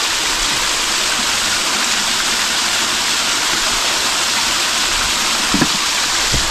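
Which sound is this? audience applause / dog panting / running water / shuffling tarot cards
running water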